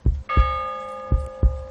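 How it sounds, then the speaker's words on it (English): A single church bell tolls, its ringing tone sustaining over dull, regular low thumps like a slow heartbeat, loud and close with no voices. "The bell invites me."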